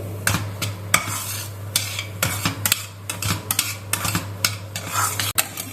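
Semolina (Bombay rava) roasting in ghee in a pan over low heat, stirred with a metal spoon that scrapes and taps the pan in an uneven rhythm over a faint steady sizzle.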